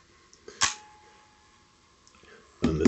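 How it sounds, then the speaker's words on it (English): Nikon FM 35mm SLR from 1977-1982 with a sticking mirror: a sharp single mechanical clack as the shutter fires, a faint tick, then a louder rattling clatter as the mirror drops back down, close up and isolated. "and then the shutter fires and the mirror drops back down."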